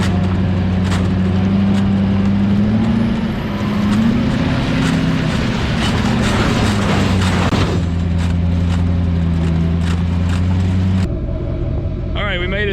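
A truck is driven hard through mud holes, its engine roaring loud and close with a deep, steady drone that rises and shifts as the wheels spin, then drops off abruptly near the end.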